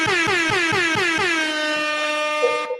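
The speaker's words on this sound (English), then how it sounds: "Where the air horn?" A loud air horn honks in a quick series of short blasts, then holds one long, blaring tone until it cuts off.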